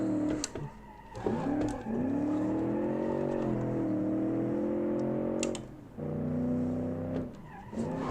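A car in BeamNG, built in Automation as an 80s model with soft suspension, revs and slides through handbrake drifts, its engine note rising and falling with brief cuts and a few tyre scrubs, loud and close with no talk.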